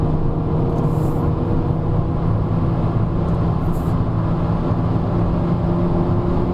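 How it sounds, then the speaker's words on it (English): Volkswagen Vento 1.2 TSI turbocharged sedan driving in sport mode, with a steady, continuous engine and road drone heard from inside the cabin at constant loudness and no talking. "if you put it into sport mode, the gear changes become more urgent and the car goes a bit faster"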